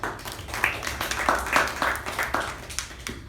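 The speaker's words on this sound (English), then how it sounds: "a round of applause for Udanka and for the speech" Scattered hand claps from a few attendees of a club meeting come in short, uneven bursts, moderately close, with no talking over them.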